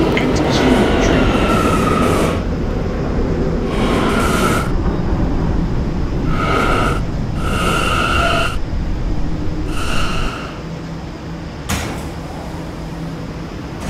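An R179 subway train on the B line runs in the Roblox game PTA Subway, a loud steady rolling rumble with repeated bright two-tone chimes and door-alert tones at intervals before the noise drops slightly near the end.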